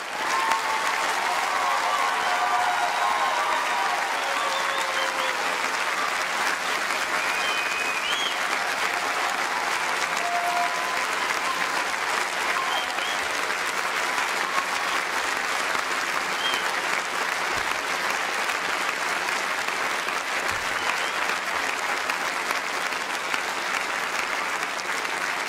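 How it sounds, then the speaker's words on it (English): Loud, sustained applause from a large graduation ceremony crowd honoring the graduates, a dense, steady roar of clapping that holds at full strength for the whole stretch. "could we have one last round of applause for all our graduates?"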